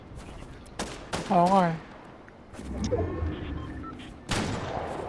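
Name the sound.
gunfire in Fortnite video game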